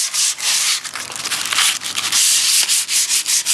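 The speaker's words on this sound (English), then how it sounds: "I just got a piece of sandpaper here. This is called 120 grit." Close, steady hand sanding of drywall with a sheet of 120 grit sandpaper, a continuous loud scratchy rasp broken by short strokes and brief pauses.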